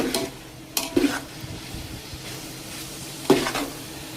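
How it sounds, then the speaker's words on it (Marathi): Corn and mixed vegetables being stirred in a large pan for a big batch of white sauce pasta, a low sizzle under several scraping, clattering strokes of a spoon against the metal. "कॉर्न ॲड करते आणि पुन्हा चांगलं मिक्स करून घेते."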